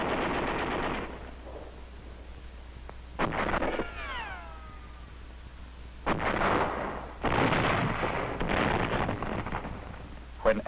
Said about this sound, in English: the Japanese resisted with machine guns,